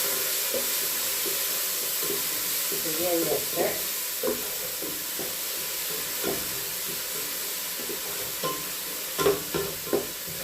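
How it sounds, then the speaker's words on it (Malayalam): Steady sizzling of garlic frying in hot oil, with occasional stirring clinks and a brief spoken voice. "വെളുത്തുള്ളി ഒന്നൊന്ന് ചോപ്പനായിട്ടൊന്ന് വറുത്ത് ശരിയാക്കണം"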